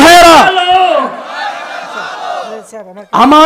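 A crowd at an Islamic sermon gathering shouts takbir in response, a loud massed chant swelling and fading, bracketed by a single amplified voice calling out.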